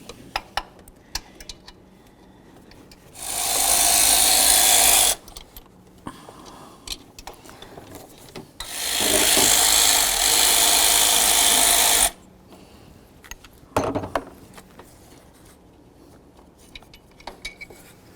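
Socket wrench work on the tensioner bolts of a 2003-09 Mercedes E320 with an E14 torque socket: two long, loud bursts of steady broadband noise, each a few seconds, separated by quieter clicks and small metallic clinks.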